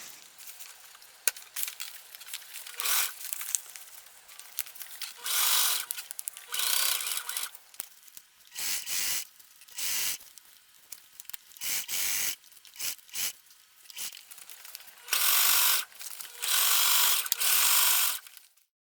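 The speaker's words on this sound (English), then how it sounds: "I'm going to sew all the edges together" A sewing machine runs in repeated bursts of stitching as it closes up the edges of a homemade fabric packing cube, with short pauses between runs and no talking.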